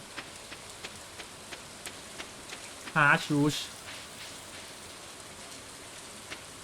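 Steady rain falls in the farming game Stardew Valley, a constant soft hiss with faint scattered drop ticks. A brief voice exclamation cuts in midway.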